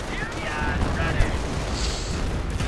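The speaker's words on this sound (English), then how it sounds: "Calliope's joining in." Calliope rocket artillery firing in a real-time strategy game, a dense rumbling barrage of rapid launches and distant booms blending into a continuous roar, moderately loud with a voice speaking over it.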